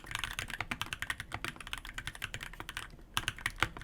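Rapid mechanical keyboard typing on quartz switches, crisp clacky keystrokes in a quick uneven rhythm, close and fairly loud, with no talking.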